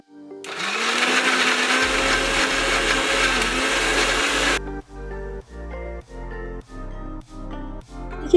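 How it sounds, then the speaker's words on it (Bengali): A mixer grinder blends spices and yogurt into a paste for Kolkata-style chicken chaap, whirring loudly and steadily for several seconds, then pulsing in short regular bursts. "এবার এই সব উপকরণগুলোকে মিক্সিতে একটা পেস্ট বানিয়ে নেব।"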